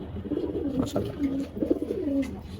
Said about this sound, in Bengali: একটা কবুতর